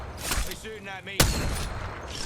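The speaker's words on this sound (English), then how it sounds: "They're shooting at me." Enemy gunfire in Apex Legends, a loud dense burst of shots with a sharp crack near the middle over a continuous noisy game mix.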